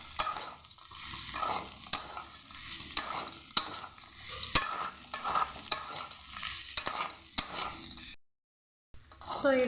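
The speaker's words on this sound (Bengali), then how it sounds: "তো এরকম করে ভালোভাবে আমি 2 মিনিট লো আঁচে করে ভালোভাবে এটাকে আমি মিশিয়ে ভেজে নেব।" Singara filling mixed with fried peanuts is stirred in a pan over low heat, a soft sizzle broken by rhythmic scraping and clinking strokes of a spatula, followed by a short silent gap and a final stir.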